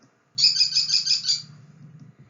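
Kestrel calling: a quick burst of shrill, high repeated klee-klee notes lasting about a second, close and clear, then fading out over a faint low hum.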